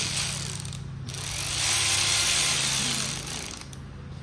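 An 8mm socket ratchet snugs the headlight bolts on a Chevy/GMC C30 square-body truck, a close, steady clicking and rasping of the ratchet running through most of the stretch with brief pauses.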